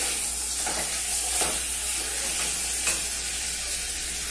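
Chicken frying in a pan on a home kitchen stove makes a continuous, dense sizzle, with occasional brief scrapes and clinks of stirring.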